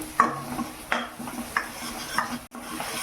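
A spatula stirs egg masala with turmeric, chili, salt and coriander powder in a hot pan, giving four or five distinct scrapes and taps over a low, steady sizzle close by.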